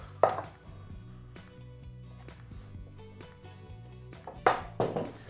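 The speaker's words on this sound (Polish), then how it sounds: "Dokładnie mieszam i uciskam w glinianym garnku." Dull thuds and squelchy pressing sounds as cured meat for kabanos sausages is mixed and pressed in a clay pot, with a few sharper knocks at the start and end, close by and fairly loud.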